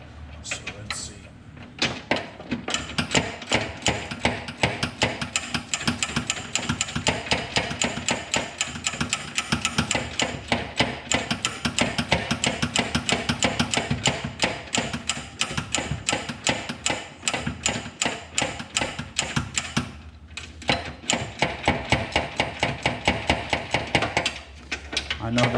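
Rapid, steady hammer strikes ring out on a camber arm bolt of an Acura TSX, a continuous metallic tapping with brief pauses near the twentieth second.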